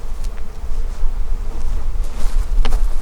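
Honeybees swarming close while a beekeeper installs a nuc hive on their first day, a dense, loud, continuous buzz with individual bees zipping past near the microphone over a low rumble of wind.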